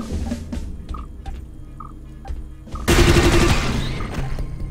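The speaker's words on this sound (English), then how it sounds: "There are so many sentry guns around." Sentry guns firing in the video game Space Beast Terror Fright: sparse clicks and small beeps, then a sudden loud burst of rapid automatic gunfire that fills the last couple of seconds.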